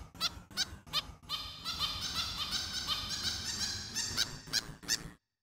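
A short, fast melody played on a sampler using a sampled sound, with honking, goose-like tones. Sharp staccato notes at the start and end frame a denser run of notes in the middle, with no voices.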